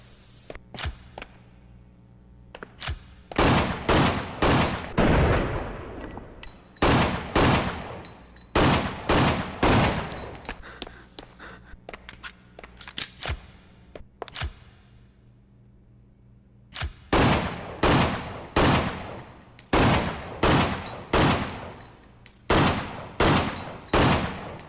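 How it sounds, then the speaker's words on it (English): Handgun GL pistol shots fired in a video game, a Glock-style sidearm, crack out in short bursts of sharp, loud reports separated by brief pauses, with a quieter stretch midway before another rapid volley. "let's test the handgun GL out"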